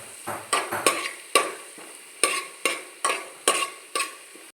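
Curry leaves and masala fry in a pan while a spoon stirs in regular strokes. Each stroke gives a sharp scrape and a burst of sizzle, about ten in a row, close and clear with no talk.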